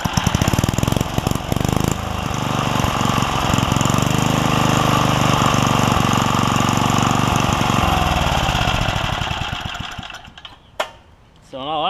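A Craftsman 3hp Tecumseh edger engine fitted with a snowblower carburetor, running a little rich, drones loud and steady up close, then drops to a rough idle and dies away near the end.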